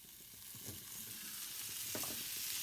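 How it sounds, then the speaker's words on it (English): Carrots frying with cumin and onions in a pan give a steady broadband hiss, with a few soft knocks of stirring, heard alone at close range. "And just stir those through and let them sizzle."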